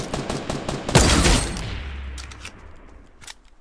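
Rapid bursts of gunfire in an online shooter game, loud and close, with a sharp volley that rings out and fades, followed by a few scattered distant shots.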